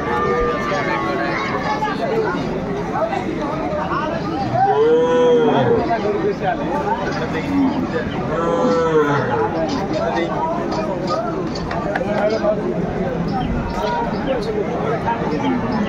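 Cows and calves at a busy cattle market, a couple of low moos rising out of constant crowd chatter and bargaining voices nearby.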